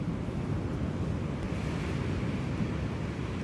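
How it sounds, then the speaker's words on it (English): Steady, dense wind roar with a constant wash of rain on a tent at night, loud and unbroken throughout, no voices. "it was a wet and windy night in the end"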